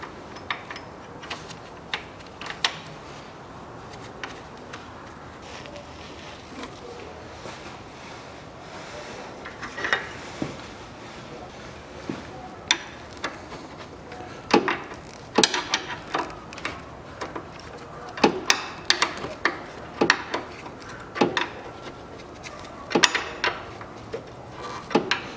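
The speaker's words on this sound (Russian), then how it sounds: "Закручиваю болт." A bolt being tightened on a 2004 Mazda Demio 1.3 during drive belt and pulley replacement: sparse metallic clicks and ratchet ticks, near and irregular, growing busier toward the end over a quiet background.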